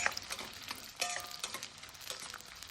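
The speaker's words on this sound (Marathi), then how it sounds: "अशा पद्धतीने आपल्याला डिंक पण भाजून घ्यायचा आहे" Edible gum (dink) roasts in a pan for ragi ladoos, with quiet crackling, popping and scraping stirs coming in irregular bursts close by.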